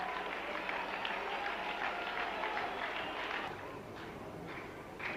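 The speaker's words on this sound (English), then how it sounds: "listen to the applause" A crowd at a one-day cricket match between India and Pakistan keeps up steady, fairly distant applause that ebbs slightly toward the end, with a commentator's voice faintly present.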